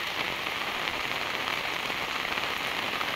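Heavy rain pours down outside over a waterlogged field, a dense, steady hiss of drops hitting surfaces, close and continuous with no voices.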